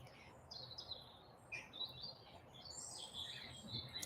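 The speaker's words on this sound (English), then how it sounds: "Allow the bird song to penetrate your ears again." Faint, scattered birdsong chirps at a calm, relaxing outdoor spot, with light twittering calls spread across a few seconds over a soft, steady background hush.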